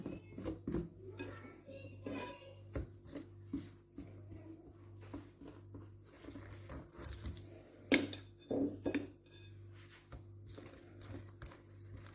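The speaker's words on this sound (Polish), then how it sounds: "teraz taki wysmarowany placuszek kroję nożem na paseczki" A knife slices a buttered flatbread dough, spread with butter, vegetables and herbs, into strips on a board, giving soft scattered taps and scrapes close by over a low steady hum.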